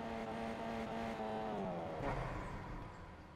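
A car engine in Fortnite hums and whirs steadily at moderate distance, with a rising whine as it seems to rev or pass by, then easing off; no voices over it.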